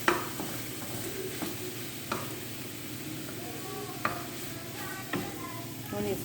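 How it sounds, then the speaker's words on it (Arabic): Meat frying in a pot gives a constant close sizzle, broken by repeated scraping and clanking strokes of a spoon as it is stirred at irregular intervals, with no talking. "ما تنسيوش اللحم، حركوه بالباهي باش ما يشدش."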